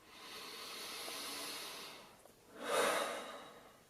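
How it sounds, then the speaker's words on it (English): Slow, deep breathing done as a calming exercise: a long, soft airy inhale for a couple of seconds, a short pause, then a stronger, breathy exhale, close and alone. "just deep breathing"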